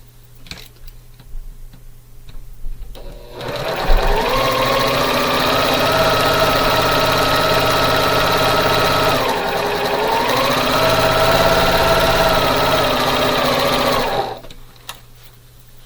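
A sewing machine stitches a quarter-inch quilt seam, running steadily and loud at close range for about eleven seconds with a brief dip in speed midway, then stopping.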